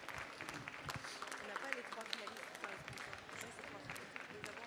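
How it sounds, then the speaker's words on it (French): Audience applause at a coffee and barista award ceremony, a continuous crowd clapping at moderate distance with scattered sharper claps, steady and fairly faint throughout with a murmur of voices beneath. "peut-être un dernier tour d'applaudissements pour tous nos champions,"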